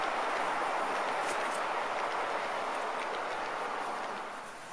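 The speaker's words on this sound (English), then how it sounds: "Here's Cat's short freight train. This is coming off the the lower loop on the outer main." A garden-scale freight train pulled by a 44-ton USAT locomotive rolls along the outer main loop outdoors, giving a steady, dense rumble and clatter that holds for several seconds and eases slightly near the end, with no talking.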